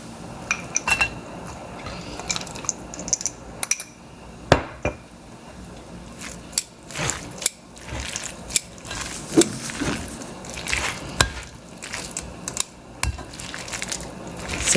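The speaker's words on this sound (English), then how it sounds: "Now I am mixing the ginger garlic paste" Ginger garlic paste is mixed into a squid marinade in a bowl, giving intermittent soft squelching and irregular spoon clinks and taps against the dish, close and fairly quiet.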